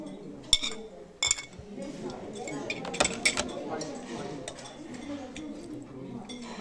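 Dishes and cutlery clink in a few sharp, close taps while food is served, with softer rattling and low murmuring voices underneath, at a meal in the Chernobyl exclusion zone.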